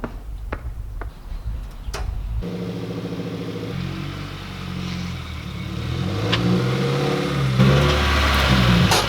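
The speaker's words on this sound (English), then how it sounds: "let's pull the WRX up here" A Subaru WRX starts up and drives in close, after a few sharp clicks, its engine rising into a loud, steady rumble that builds toward the end, with no talking.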